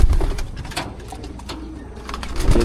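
Racing pigeons cooing in soft, repeated low calls, close by, with a low steady background rumble and no speech.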